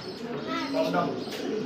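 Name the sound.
pigeons cooing at a pigeon market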